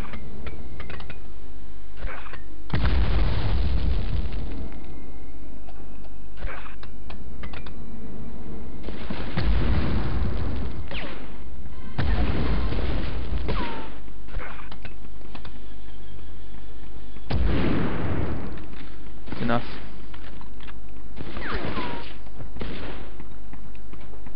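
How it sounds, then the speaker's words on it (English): Grenade explosions in the PS1 game Medal of Honor land as several deep, heavy booms spaced several seconds apart, over low, compressed game ambience with scattered smaller pops. "Throw a few grenades down here."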